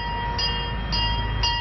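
Bell of the Albuquerque BioPark miniature train rings three times at an even pace, each strike clear over a steady low rumble of wheels rolling on the tracks.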